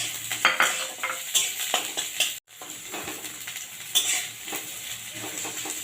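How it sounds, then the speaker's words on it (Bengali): Garlic fried reddish-brown is lifted from a sizzling pan, with a steady crackle of hot oil under scraping spatula strokes and light clinks of metal against the pan. "রসুনটাকে তুলে নিচ্ছি"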